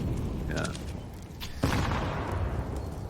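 A grenade bursts in a CS:GO match on the Inferno map, a single sharp boom partway through over steady game ambience and overlapping commentator talk.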